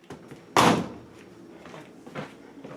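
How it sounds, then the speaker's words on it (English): The door of an LG WM0642HW front-loading washing machine shuts with one firm thud, close and fairly loud, followed by quiet room background. "close the door"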